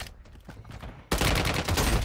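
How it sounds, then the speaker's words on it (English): Gunfire in the mobile shooter game Warzone Mobile: a few scattered sharp shots at first, then a sudden loud burst of dense, continuous rapid fire. "There's someone sniping me from the side."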